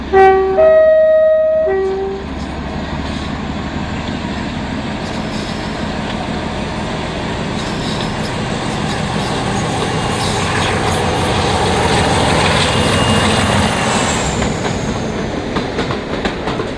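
Class 47 diesel locomotive 47270 pulls away from Yarwell Junction on the Nene Valley Railway, opening with a brief two-tone horn blast, then a loud, steady diesel roar building with clattering wheels and rail noise throughout.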